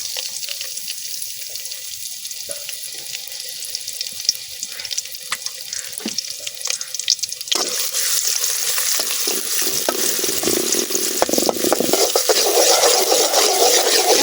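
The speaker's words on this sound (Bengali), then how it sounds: "তেল গরম হয়ে গেছে, এখন আমি দিয়ে দিতেছি কাটতে রাখা পেঁয়াজ রসুন" Chopped onion and garlic hitting hot oil in a wok, a quieter stretch giving way to a loud, sustained hissing sizzle that carries through to the end, with no speech.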